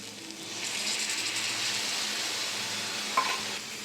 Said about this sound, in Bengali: এবার দইটা দিয়ে দেবো।